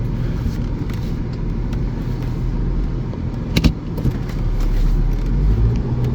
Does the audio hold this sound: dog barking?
no